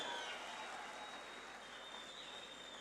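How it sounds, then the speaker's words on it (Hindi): Children clapping together at a literature festival in Pakistan, a faint, distant, steady patter of applause with no talk over it. "अपने लिए ताली बजाओ बेटा, सारे के सारे जोर से बजाओ, और जोर से बजाओ"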